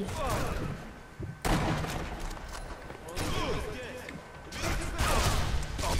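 Bursts of gunfire from the co-op video game Sniper Elite V2 come in several loud, sharp volleys separated by brief lulls, with game sounds and voices mixed in throughout.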